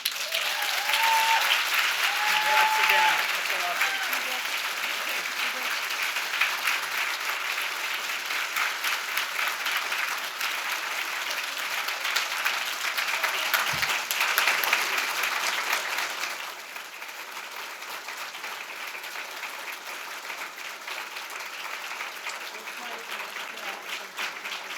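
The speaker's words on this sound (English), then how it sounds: "We can keep the round of applause going for Karen" Sustained audience applause for award recipients at a Chamber of Commerce women in business breakfast, a broad steady roar of many hands, with brief speech and a dip in intensity partway through before continuing.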